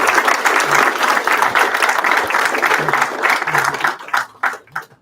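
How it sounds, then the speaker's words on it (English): Audience applauds the staff at a centennial celebration, steady dense clapping for about four seconds that breaks into scattered claps and fades at the end. "So if you could give the staff here a round of applause"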